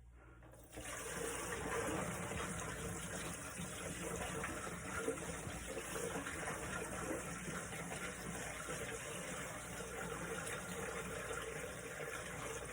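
Water poured into the reservoir of a humidifier box for a mushroom grow tent, a steady close gushing fill that starts after a brief quiet moment and runs on unbroken, fairly faint, with no talk.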